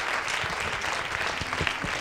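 Applause from the audience at a short-film screening session, a steady wash of clapping throughout with no break.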